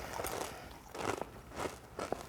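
Four short bursts of crunching on sweet potato chips, each a dry crackly bite at a steady pace, close and fairly quiet with no talk.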